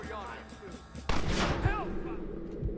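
Gunfire in the Western game Red Dead Redemption during a shootout at a gate, a sharp loud blast followed by scattered shots and rumble, with voices shouting amid the fire.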